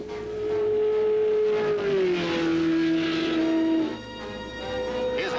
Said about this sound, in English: Mario Andretti listens, then wheels onto the track